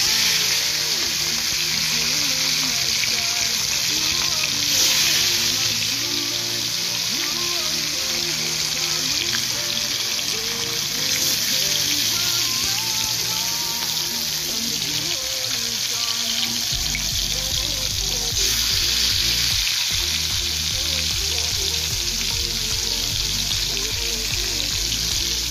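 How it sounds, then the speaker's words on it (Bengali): Pieces of fish, four at first from a batch of seven, fry in hot oil in a pan with a loud, continuous hissing sizzle that holds steady and close throughout. "এই যে তেল গরম হচ্ছে, গরম হয়ে গেলে আমি এখন মাছ ছেড়ে দেবো ভেতরে।"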